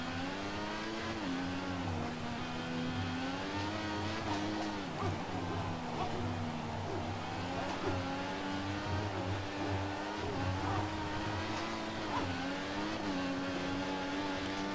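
Formula 1 race car engines from the F1 2014 video game whine continuously at high revs, rising and falling with gear changes over a steady loud drone, while faint talk sits underneath.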